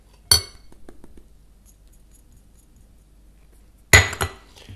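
Spices and garlic being mixed in a bowl while making pumpkin soup and patties, with two sharp, close clinks of a utensil against the dish separated by a few seconds of near quiet.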